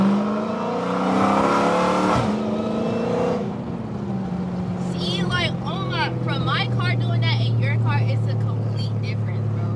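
A tuned 1100hp Dodge Demon 170 engine roars loudly and steadily, then drops in pitch and settles into a lower drone, with people talking over it.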